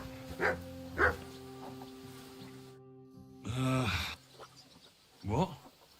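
A dog in the medieval open world of Kingdom Come Deliverance 2 gives a few short, close barks spaced across several seconds, with a steady game ambience humming underneath.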